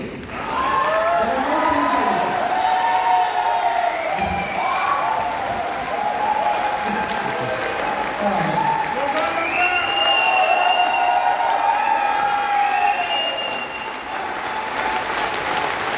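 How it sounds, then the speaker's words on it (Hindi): An audience at a stage event applauds and cheers for a performer named Mukesh, sustained clapping mixed with whoops and raised voices that swell and fade slightly, lively and continuous throughout. "तो मुकेश की ताली होनी चाहिए"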